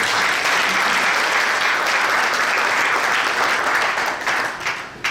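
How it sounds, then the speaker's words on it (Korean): Loud, dense applause from a large church assembly at a general-meeting celebration as a guest rises, a full unbroken roar of many hands that holds steady, then thins near the end. "여러분 일어나실 때 박수 한번 크게 부탁드립니다"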